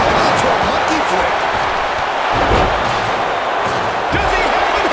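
A crowd-filled arena roars in the WWE 2K25 wrestling video game as a wrestler hits the mat from a monkey flip, thudding impacts landing under steady, loud crowd noise.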